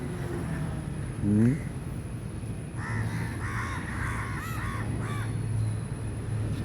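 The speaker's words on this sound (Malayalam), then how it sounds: "കാക്കളുടെ ഒരു സംഗമം അവിടെ കണ്ട് വീണ്ടും അവരവിടെ തന്നെ ഒരുമിച്ച് കൂടിയിട്ടുണ്ട്" A flock of crows gathered together caws in repeated bursts of harsh calls, loudest in a dense cluster midway, over steady outdoor background noise.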